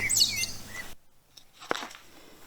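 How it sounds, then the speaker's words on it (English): Bright bird chirps and song sound up close, then cut off and give way to a faint flutter of wings as the bird flies off in a quiet outdoor setting. "When the bird had finished its song, it spread its wings and flew away before them."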